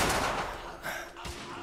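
Machine gun fire in The Order 1886, a brief rapid burst of shots over about two seconds, close and fairly loud.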